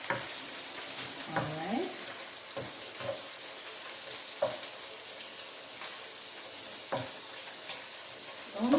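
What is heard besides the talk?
garlic frying in a pan for fried rice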